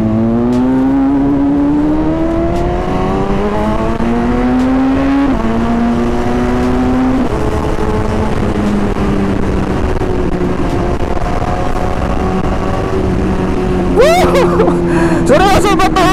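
BMW S1000RR motorcycle pulling hard under full power, its engine note climbing steadily through the gears with a loud, sustained whine and rush of wind, ending in sharp revving bursts near the rider.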